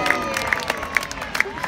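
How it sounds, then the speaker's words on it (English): A crowd cheers and claps as the Union Jack flag is raised, a steady wash of voices with sharp whoops rising above it at intervals, under a faint talking voice. "Can we get a big cheer?"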